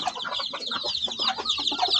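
A busy brood of two-week-old native Shamo Aseel chicks peeping and cheeping continuously, many overlapping high chirps close by and steady in loudness.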